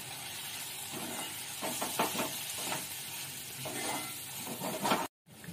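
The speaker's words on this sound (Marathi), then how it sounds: "सर्व मसाले आता आपल्याला तेलामध्ये परतून घ्यायचे आहेत." Ground spices, turmeric, coriander-cumin powder and garam masala, sizzle steadily in hot oil for an eggplant and potato curry, a close, continuous frying hiss broken by light stirring scrapes before a sudden cutoff.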